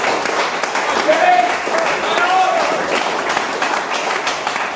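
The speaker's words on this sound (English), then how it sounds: "Give him a big round of applause." A crowd applauds boxer George Clancy, on the bill for the OPBF title, with steady clapping under an announcer's voice throughout.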